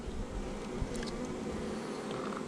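A package of honeybees shaken into a new hive in Central Texas, a steady dense buzzing swarm, close and even throughout, with a brief thump near the start.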